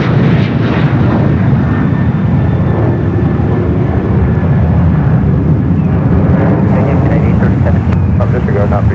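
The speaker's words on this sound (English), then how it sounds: "that is the 777 at 300ER" A Boeing 777-300ER jet airliner at San Francisco airport produces a loud, broad engine roar that holds steady throughout, with radio talk and a voice heard over it.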